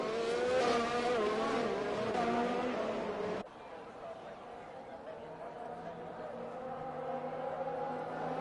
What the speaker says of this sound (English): That beautiful Aston Martin safety car leading the field still